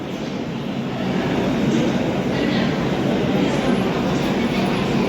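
A train standing at platform 1 of Jhansi railway station, a dense continuous rumble and hiss filling the whole stretch at close range, with faint voices in the background.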